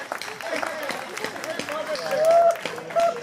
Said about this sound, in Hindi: और ताली इस बात पे पूरा सदन बजाएगा